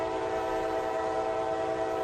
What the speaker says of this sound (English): All I hear is horn